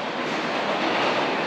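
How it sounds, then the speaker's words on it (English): An Osaka metro train runs steadily with a continuous roar and rumble, close and loud, with no voices. "So we're in the metro."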